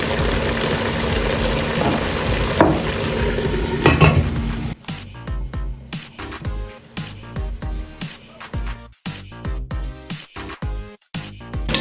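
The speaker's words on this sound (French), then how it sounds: "Je vais venir sauter ça un peu" Meat sizzling and frying in a pan for a stew of meat with vegetables, a dense steady hiss with stirring scrapes for the first few seconds, then quieter, patchier clatter and sizzle.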